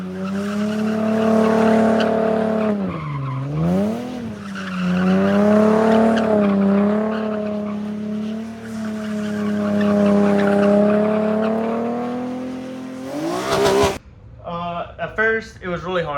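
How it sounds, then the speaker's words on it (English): A Nissan 370Z Nismo spins controlled drift donuts, its engine droning steadily with rising and falling pitch while the tires squeal continuously, loud and close, before cutting off abruptly near the end. "I started practicing my controlled donuts."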